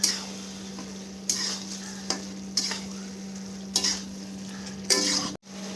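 Kashmiri chili powder and other spices fry in a pan while being stirred. A steady sizzle runs throughout, broken by scraping stir strokes roughly every second.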